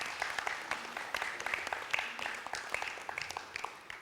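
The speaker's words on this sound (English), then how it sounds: "Join me in applauding Mr. Biman Prasad." Steady applause from a crowd at a primary school renaming ceremony, dense overlapping claps filling the room without pause.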